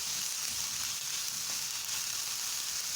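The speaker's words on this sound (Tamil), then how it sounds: "அடுத்து ஆரஞ்சு கலர் குடமிளகா, அதையும் வதக்கி விட்டுக்கலாம்." Orange capsicum sautés in a hot pan with a steady, dense hiss of frying that continues unbroken and close throughout.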